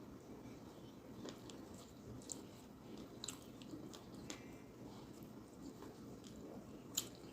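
Wet, squishy chewing and biting of egusi soup with fufu and amala, a West African meal, close up and steady over a low background, with occasional sharper smacks and no talking.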